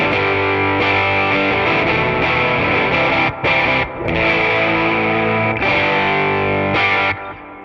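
Electric guitar played through a modeled 1957 5E3 Deluxe amp with overdrive from the amp alone and no pedal, strummed chords ringing loud and gritty with brief pauses between phrases.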